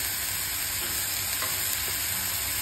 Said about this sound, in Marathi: हे मसाले व्यवस्थित असं परतवून घ्यायचे आहेत, शिजवून घ्यायचे आहेत।